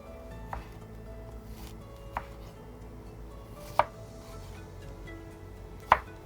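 Knife slicing onions on a cutting board for dumplings, with four separate sharp chops spaced a second or two apart, close by over a steady kitchen background hum.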